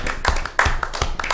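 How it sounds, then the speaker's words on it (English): A short round of hand clapping, several sharp claps in an uneven rhythm, close and fairly loud with no talk. "Round of applause for that."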